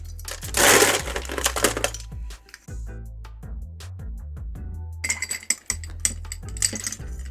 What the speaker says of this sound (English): all we need to do now is ice that down and give it a good old shake.